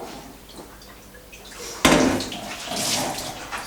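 Water from a tap suddenly gushes on and keeps running steadily, splashing loud and close after a quiet stretch, in a kitchen where a cake tin is being prepared.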